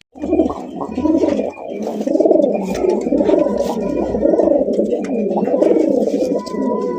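Several fancy and racer pigeons at a farm coo loudly and close, a continuous warbling, throaty chorus of overlapping calls that lasts throughout with no clear talking.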